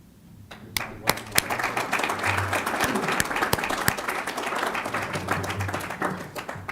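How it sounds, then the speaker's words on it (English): Applause at an Air Force JROTC graduation ceremony honoring cadets and flight instructors, starting after a moment of quiet with a few sharp individual claps, then swelling into sustained crowd clapping punctuated by loud, distinct hand claps. "let's do another round of applause for all of the hard work from the cadets and their flight instructors."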